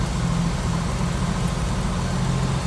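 A 1986 Jeep CJ7 4x4 with HEI ignition idles steadily and smoothly, a continuous low, even engine rumble heard up close, with no voices.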